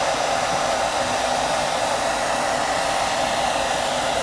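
A heat gun blows a steady, loud, close rushing hiss without a break while warming a sticker on a book to lift it off, with no voices.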